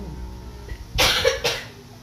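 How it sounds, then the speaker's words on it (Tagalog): A couple of close, harsh coughs in quick succession, the second slightly weaker, with quiet room background before and after. "Ubo muna tayo"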